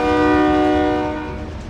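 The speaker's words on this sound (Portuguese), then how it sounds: "Subiram no trem" Train horn from Call of Duty: Modern Warfare, a single loud, close, sustained chord-like blast that fades out over under two seconds, heard alone.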